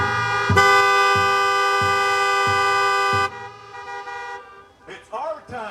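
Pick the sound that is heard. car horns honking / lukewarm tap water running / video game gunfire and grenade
car horns honking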